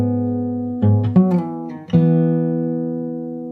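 A guitar plays a short fill, with a few plucked notes over a low ringing chord and sustained tones fading away, close and alone.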